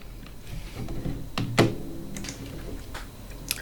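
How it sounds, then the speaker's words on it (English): Someone types quickly on a computer keyboard while adding text in the WordPress block editor, producing a close run of uneven key taps with one sharper clack midway and no speech. "So if I'm just going to quickly type up some information here."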